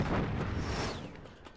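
A rocket launcher fires in Uncharted 3, a muffled blast with a whooshing rocket streak that fades out over a second and a half, heard alone at low volume.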